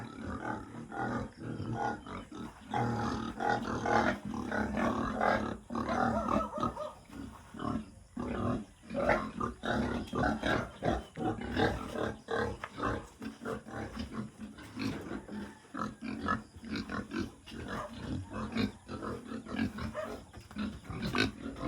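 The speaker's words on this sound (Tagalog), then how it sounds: "Mga baboy. Dami pa ng baboy." Pigs on a farm in the Philippines grunting, squealing and snorting continuously, a dense, close and fairly loud chorus of many animals with no talk over it.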